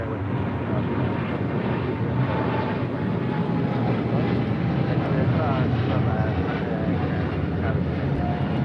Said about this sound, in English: This is Cargo King 222 taking off to Shanghai on a 777 freighter.